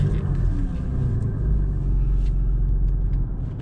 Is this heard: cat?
no